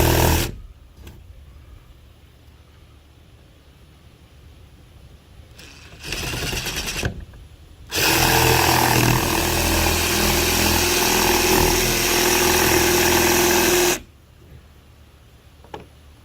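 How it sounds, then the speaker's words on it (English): A power saw cuts half bricks out of a faux brick wall panel in a guest room, with a brief burst of cutting followed by a loud, sustained cut of about six seconds and quiet gaps between. "we're going to cut out the half bricks on this one"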